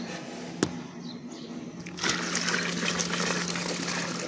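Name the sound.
water being poured in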